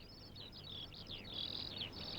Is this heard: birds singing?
yes